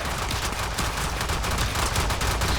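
Video game weapon shots hit a level 90 corrupted heavy gunner in a dense, unbroken stream of loud impacts that fills the whole stretch with no voice over it.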